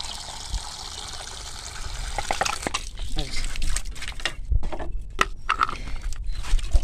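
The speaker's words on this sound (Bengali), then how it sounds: "তো জল দিয়ে দিচ্ছি, এটার মধ্যে জল দিয়ে দিচ্ছি" Water being poured into a container of fish fertilizer, a soft trickling and gushing fill heard up close, with a voice talking over it.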